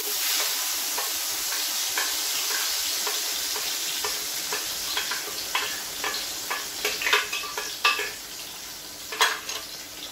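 Tomatoes frying in hot oil for a tomato sauce give a steady, close sizzle with scattered sharp ticks and scrapes of stirring that grow busier toward the end.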